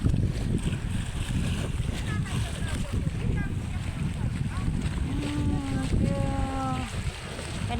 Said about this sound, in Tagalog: Lakas ang balod.